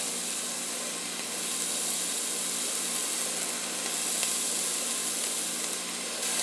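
Minced garlic with onion sizzles in hot olive oil for a chicken gnocchi soup, a steady bright hiss that holds even and close throughout, with no talking.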